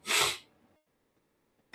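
A single loud, breathy sneeze bursts out close by, followed by quiet and a brief sharp intake at the end.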